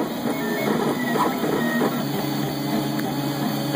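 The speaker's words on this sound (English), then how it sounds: "That's way faster than what I've been doing, so it's kind of nice. But it's flying through this print." A 3D printer fitted with an E3D Volcano clone 0.8 mm nozzle prints fast, its stepper motors producing a loud, steady buzzing whir with quick tonal shifts as the head moves, heard up close.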